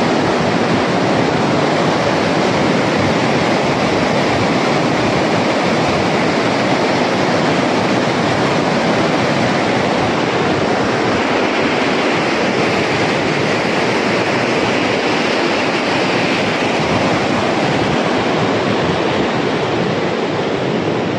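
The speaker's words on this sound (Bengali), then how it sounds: "জলের বিশাল ফ্লো এখানটায়।" Heavy, steady rush of the River Thames flowing in a large volume along the bank at Reading, a broad continuous roar of water holding even and loud throughout with no voices.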